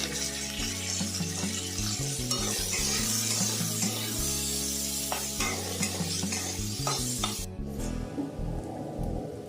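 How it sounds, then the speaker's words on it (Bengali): Onion, garlic and green chilli fry in a pan with a steady broadband sizzle and repeated scraping stir strokes over low background music, cutting to a quieter sizzle near the end. "পেঁয়াজ, রসুন, কাঁচা লঙ্কাটা আমি একটু ভাজা করে নেব"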